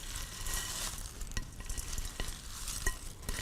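Fruit and vegetable pieces mixed together for snack cups, stirred steadily in a bowl with a continuous scraping, swishing texture and a few faint clicks, close and moderately loud, no voices.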